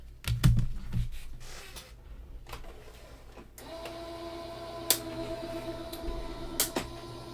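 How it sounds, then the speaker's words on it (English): A craft die cut machine runs with a plate taped down for cutting, giving a low steady mechanical whir with faint clicks and a couple of sharper knocks, moderately quiet and without speech. "Tape it down and run it through your die cut machine."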